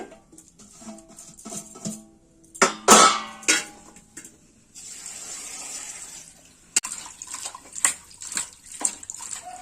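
Water runs and splashes in a home kitchen as vegetables are washed, likely cauliflower stalks and Malabar spinach for a curry. Irregular bursts of gushing and clattering come close by, with no talk.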